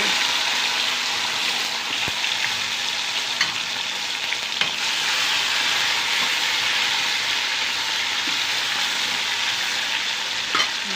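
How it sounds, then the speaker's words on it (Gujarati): A tomato tempering with mustard seeds, cumin and fenugreek powder sizzles loudly and steadily in a pan, close up, with a few faint stirring taps and no talking. "અને સરસ મજાનો ટમેટાનો વઘાર થઈ રહ્યો છે."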